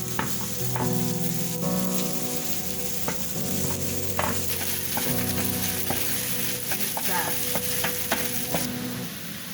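Spring onions hit a hot frying pan and crackle loudly, with a spoon scraping and stirring in irregular knocks over the continuous sizzle, close and without any voice.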